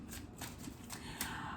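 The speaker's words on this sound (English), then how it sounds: "I'll riffle shuffle a couple of times, however I feel necessary, and then I just do hand over hand" Tarot cards are shuffled hand over hand, a quick run of soft papery slaps and riffles, close and fairly quiet, repeating in rapid bursts with no talking.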